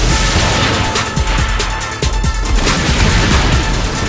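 A rocket launcher blast in the video game Saints Row 4 fills the space with a dense, loud roar of rumbling explosion and crackling debris that stays heavy and continuous throughout.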